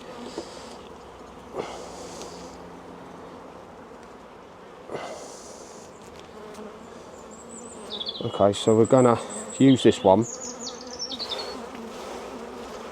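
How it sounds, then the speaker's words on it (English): Honeybees buzz in a dense, wavering drone while being shaken off a hive frame, swelling louder in the second half, with a voice speaking briefly early on. "we will shake these bees off of here as well"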